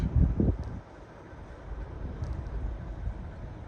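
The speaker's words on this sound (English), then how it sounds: "it is so windy" Low, rumbling wind buffeting the microphone outdoors on a sheep farm, in uneven gusts, strongest in a brief burst at the start, then a steadier blustery roar.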